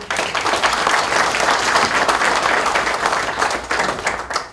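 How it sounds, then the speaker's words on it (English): Seminar audience at a bank fraud event giving Mr. Glasgow a round of applause: dense, sustained clapping from a sizable crowd, loud and even throughout, tapering at the end. "So a round of applause for Mr."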